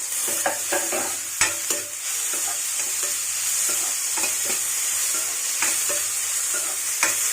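Brinjal, dried fish and freshly added tomatoes sizzle steadily in a pan, with scattered clinks and scrapes of a spoon stirring through the continuous frying hiss.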